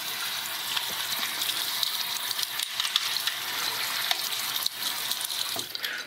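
Running tap water rinses the detached head of a Remington MX5 head shaver, a steady close splashing flow with small clicks and knocks as the parts are handled, and no voices.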